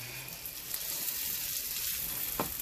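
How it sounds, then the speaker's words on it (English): Butter melts and sizzles in a frying pan before broccoli cheese cakes go in, a steady hiss with a brief clatter at the end and no talk. "That butter is starting to melt."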